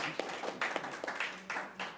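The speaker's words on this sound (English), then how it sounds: "he deserves a round of applause" Scattered hand clapping from an audience at a press conference, a few separate bursts of claps rising and falling over two seconds.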